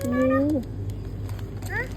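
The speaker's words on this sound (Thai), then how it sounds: "แมวแมว แมวเหรอนี่" A cat gives a long, rising meow, then a shorter second meow a moment later, both clear and close over a steady low background hum.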